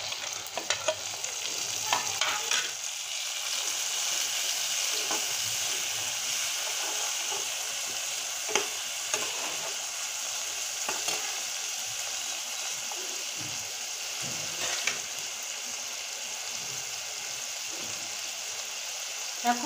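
Chopped tomato is added to onion and garlic that have already been fried until red, for a potato curry. A continuous soft frying hiss runs throughout with occasional stirring scrapes and no talk.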